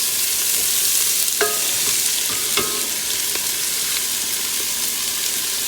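Leeks sweat in a pan, giving a soft, even sizzle with a few light clicks of stirring and no talk.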